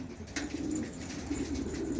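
Pigeons in a rooftop loft coo softly and repeatedly, low throaty calls rising and falling in a steady rhythm against a quiet background.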